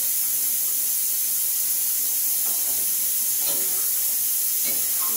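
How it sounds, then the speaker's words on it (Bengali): Fish curry broth at a rolling boil in a cooking pot, giving a steady close hiss of steam with faint bubbling and a few soft clinks, no voices. "ঝোল আমার ফুটে উঠেছে"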